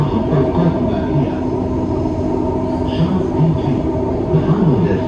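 Dubai Metro Green Line train running toward Creek station in the UAE, a steady rumbling interior drone with faint wheel and rail noise throughout, close and continuous.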